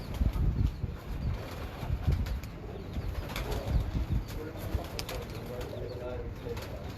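Pigeons on a rooftop, including a numbered racing pigeon, coo softly and flap their wings in bursts, close by and moderately loud, with people talking at intervals.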